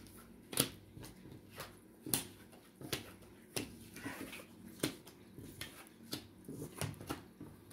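Tarot cards slid and shifted across a table: a quiet, irregular series of soft taps and papery flicks, close and intimate, with no talking.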